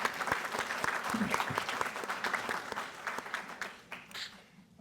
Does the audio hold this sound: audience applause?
yes